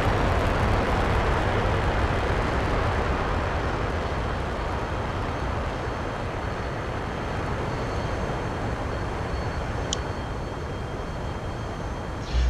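Jet engines in the DCS F-15EX flight simulator game roar steadily, a loud, unbroken broadband rush that holds for the whole stretch with no talking over it.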